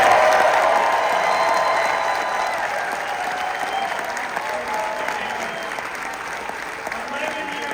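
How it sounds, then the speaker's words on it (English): A convention hall crowd at a Chicago Cubs fan event breaks into sustained, loud applause with scattered cheers, the clapping holding steady throughout and tapering only slightly toward the end. "I would love a huge round of applause."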